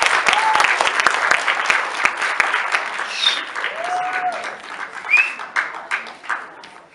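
Audience applause for a singer at a live band show, a dense burst of clapping from a crowd that thins and tapers off toward the end, with faint voices and a few whistles mixed in.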